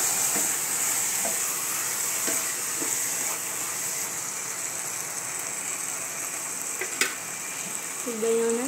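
Chicken gravy cooks in a pan with a soft, steady sizzle and scattered light clinks and scrapes from stirring, fairly quiet and close, ending with a brief metallic squeak.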